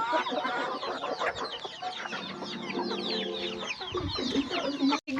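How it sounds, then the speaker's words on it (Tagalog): A flock of chickens clucks and chatters continuously nearby on a rural farm, a dense overlapping chorus of short calls. "Daghan sa manok oy"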